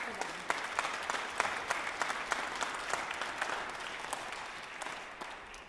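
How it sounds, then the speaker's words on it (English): A youth orchestra's fall concert audience claps steadily for several seconds, scattered sharp individual claps standing out from the even, moderately distant applause before it tapers off. "So let's applaud for them."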